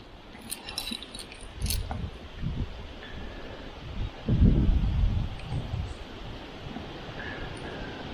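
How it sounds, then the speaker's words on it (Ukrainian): Gusts of wind buffet the microphone in rumbling bursts, with a brief metallic jingle near the start and no voices. "вітер сьогодні просто капець"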